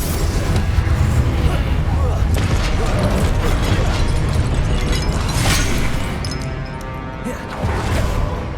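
A Confringo blasting spell explodes in Hogwarts Legacy gameplay on PS5, a continuous loud rumble of booms and crashing impacts that eases slightly toward the end.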